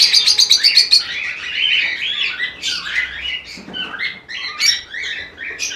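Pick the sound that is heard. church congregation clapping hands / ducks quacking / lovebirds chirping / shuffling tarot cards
lovebirds chirping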